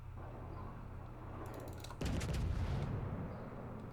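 The battleship California fires a main gun salvo in the naval game World of Warships, a single heavy boom landing midway over a constant low engine rumble, with a rolling roar trailing after.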